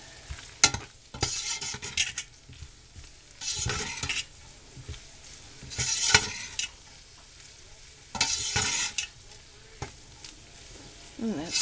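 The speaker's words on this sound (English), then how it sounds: "Stir that in." A spoon scrapes and stirs enchilada filling in a hot pan, coming in several separate bursts of scraping and sizzling with quieter gaps between them, close by and moderately loud.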